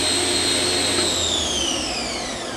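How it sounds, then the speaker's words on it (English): A Fadal CNC vertical machining center spindle winds down during a simulated automatic tool change, a loud whine with high tones sliding downward as it slows, with no talking. "Simulating a tool change."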